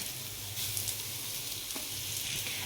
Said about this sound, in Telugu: ఇప్పుడు అందులోనే బీట్రూట్ తురుముని వేసేసుకుందాం